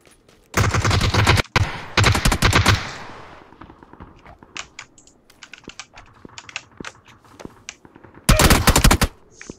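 Bursts of automatic gunfire in PUBG on the snow map: two loud rapid volleys early, scattered single shots in between, then another dense burst near the end, mixed with clattering keyboard typing.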